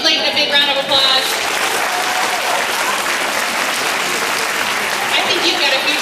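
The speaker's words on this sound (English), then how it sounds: "Can we give Layton a big round of applause?" A crowd of children applauds loudly, with brisk, dense clapping and some cheering voices at the start, then a sustained round that stays strong to the end.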